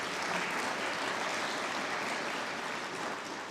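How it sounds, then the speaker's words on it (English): Applause from the audience at a wildfire workshop in Santa Rosa, a steady wash of many hands clapping that fills the room evenly and stays constant throughout. "please give them a round of applause"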